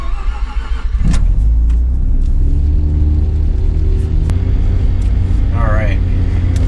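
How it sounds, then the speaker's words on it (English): A Mazda FD RX-7 rotary engine cranks and fires about a second in, then settles into a steady, loud, close idle rumble with a faint brief whine near the end. "So the sound of the RX-7 is incredible."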